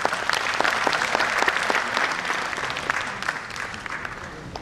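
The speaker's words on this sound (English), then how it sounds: "Let's have a big round of applause" Audience applause at a school education conference, a steady wash of many hands clapping that holds for several seconds and tapers slightly toward the end, fairly close and moderately loud.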